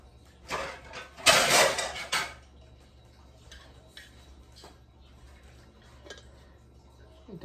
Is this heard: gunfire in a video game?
no